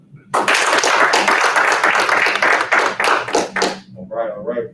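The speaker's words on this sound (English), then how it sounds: "We're gonna clap for you again, Derek." A room of people claps hands for a classmate at a live-streamed speech event, a dense, sustained burst of applause lasting about four seconds before thinning out, with voices talking as it fades.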